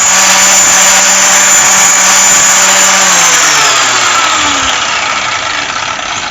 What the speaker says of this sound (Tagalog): Ninipisin ko lang siya ng grinder kasi hindi ko na siya mapapanipis